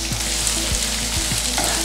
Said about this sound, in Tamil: அந்த நல்லெண்ணையும் வெங்காயமும் அப்படி சேரும்போது வதங்கும்போது ஒரு வாசம் வருது